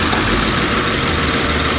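A Ford Crown Victoria with a Cobra engine swap, which has an intake manifold runner control issue, idles in a steady, loud, close rumble with a rough low-end churn and no voices.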